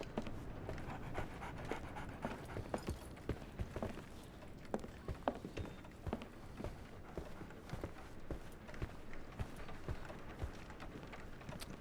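A dog in the Sherlock Holmes: The Awakened video game pants in steady rhythmic breaths close by, with soft footstep-like clops and a light rain-like patter running underneath.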